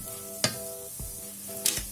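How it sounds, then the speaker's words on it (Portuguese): Rice frying in sunflower oil in a pot for a raisin rice dish gives a steady, close sizzle, broken by a few sharp scrapes and clatters of stirring. "vou deixar fritando aqui mais um pouquinho e vou colocar água"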